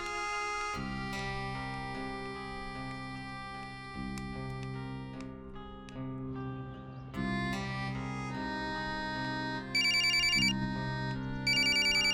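A telephone ringtone plays alone as a clear, repeating melodic electronic ring that grows louder and brighter toward the end, with no voices over it.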